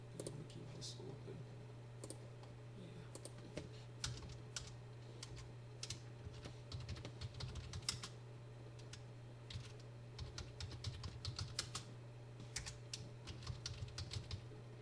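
Quiet, steady typing of code on a computer keyboard, with irregular clusters of light key clicks over a constant low hum.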